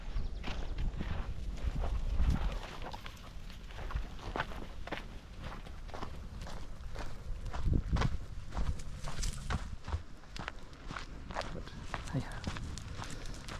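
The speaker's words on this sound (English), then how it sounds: "Are you watching the horses?" Horses walking outdoors in the countryside, hooves clip-clopping in an irregular rhythm at moderate distance under steady background noise and occasional nearby voices.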